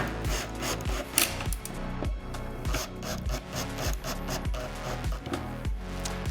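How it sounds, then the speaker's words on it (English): A screwdriver drives screws into the wooden parts of a glued-up compartment organizer rack in a steady ratcheting, rasping rhythm of repeated short strokes, close and fairly quiet with no talking. "Let's screw these together."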